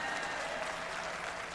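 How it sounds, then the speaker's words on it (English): A short burst of audience applause at a Unitarian Universalist General Assembly session, dense steady clapping heard from a distance. "It's okay to clap."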